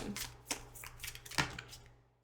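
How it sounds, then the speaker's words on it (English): Tarot cards being shuffled by hand, with soft riffling and sliding bursts at irregular intervals, close and fairly quiet, no talking. "What I'm also going to do is I'm going to shuffle some of these."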